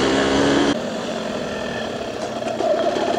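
A DTLC 125cc motorcycle engine runs steadily at a mid-pitched, close-up hum with rough vibration, and its tone drops slightly in the first second before settling into a constant drone.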